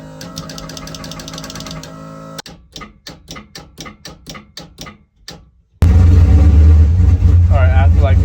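A Nissan S13 engine whines steadily, then cuts out into a series of rhythmic starter-motor cranking pulses, about nine in a row, before the engine catches and roars loudly into a steady idle.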